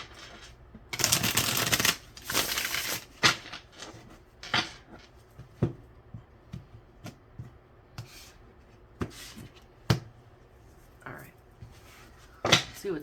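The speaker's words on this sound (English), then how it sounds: "One more shuffle for y'all." Tarot cards being shuffled for a weekend reading: two strong riffling bursts near the start, followed by scattered softer card flicks and taps at close range in a quiet room.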